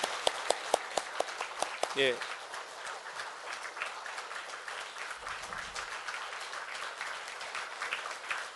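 Congregation applauding in a Korean Presbyterian church during a pastor's installation and retirement thanksgiving service, a dense sustained wash of clapping from many hands filling the room throughout, with a few sharp individual claps early on and a brief spoken word near the start.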